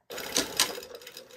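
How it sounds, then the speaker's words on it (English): A sewing machine runs steadily along a seam of a white summer sweater, a close continuous mechanical whir with a couple of louder stitching thumps before it stops. "I'm just gonna sew along that."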